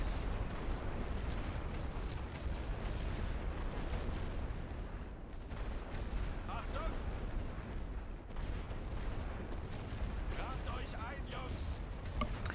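In The Great War: Western Front video game, mortar fire and grenades boom in a dense, continuous barrage of low rumbling blasts, with sharper pops scattered throughout.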